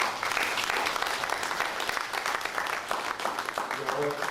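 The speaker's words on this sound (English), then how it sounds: "I'd like you to clap for our international participants, gentlemen and ladies." Workshop attendees applaud international participants at a formal correctional-services program event, steady crowd clapping that holds at an even level throughout, with some voices mixed in.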